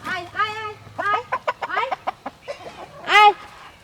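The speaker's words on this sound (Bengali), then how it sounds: "মুরগিরা খাচ্ছে।" Chickens cluck in short, choppy bursts around a village yard as they peck at feed, the calls close and uneven, with a higher squawk near the end.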